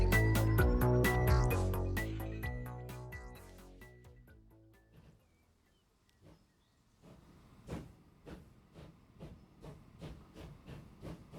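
Steam train in the Transport Fever 2 video game: a fading burst of hissing and clattering gives way to quiet, then a run of rhythmic chuffs builds at moderate volume.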